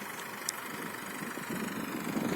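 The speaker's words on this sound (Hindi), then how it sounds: "ट्रैक्टर चला थे, ट्रैक्टर अपर काम करा थे" A tractor engine runs in a field during paddy sowing, a steady low rumbling drone at moderate distance that grows slightly louder toward the end, with no voices.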